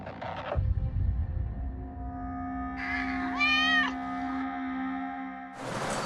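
Cats meowing at night, one drawn-out, wavering yowl in the middle with a clear rising and falling pitch, framed by brief bursts of noise at the start and end and a steady tonal hum underneath.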